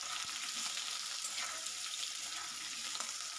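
Potatoes frying in refined oil for an okra and potato curry, stirred in the pan, giving a continuous close hiss and sizzle with faint scraping of the stirring.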